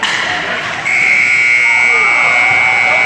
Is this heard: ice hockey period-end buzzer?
yes